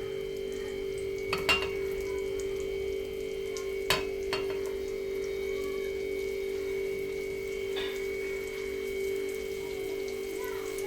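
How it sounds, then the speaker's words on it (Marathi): Golden anchovies fry in hot oil for a Maharashtrian recipe, giving a steady crackling sizzle throughout, broken by a few sharp clicks and clatters from the pan, with no talking. "तेल गरम होतं आहे बघू शकता चुरचुर चुरचुर आवाज यायला लागला आहे"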